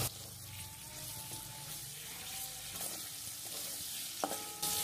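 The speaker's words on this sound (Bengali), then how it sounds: "এবার হলুদের গুঁড়ো দিয়ে ভালো করে নেড়ে নেব" Potatoes frying with salt and turmeric in a pan, a steady close sizzle with scraping stirring strokes and a few light metallic clinks.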